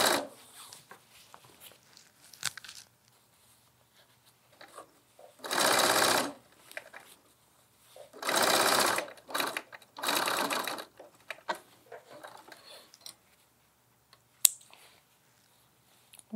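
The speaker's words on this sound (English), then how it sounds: "So just do a little edge stitch to sew that shut." A home sewing machine edge stitches a tote bag shut in three short loud whirring bursts of rapid stitching, separated by quiet pauses with faint handling clicks and rustles.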